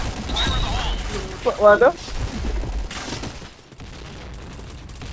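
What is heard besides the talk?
gunfire in a shooting video game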